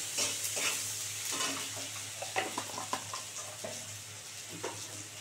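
Turmeric-coated masala for Bengali dhokar dalna sizzles steadily in a pan, with close, repeated scraping and stirring strokes from a spatula and no talking.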